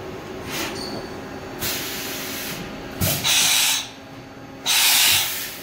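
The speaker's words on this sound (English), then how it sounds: "Can you do a tool change?" An Akira-Seiki Performa V4C CNC vertical machining center runs through a tool change, with mechanical whirs, a clunk and bursts of pneumatic hiss in separate steps over a steady machine hum.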